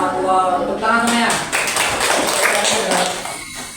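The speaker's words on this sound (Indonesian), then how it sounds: "Tepuk tangan semuanya." Applause from a class audience, dense broadband clapping that rises after a voice speaks at the start and continues steadily to the end.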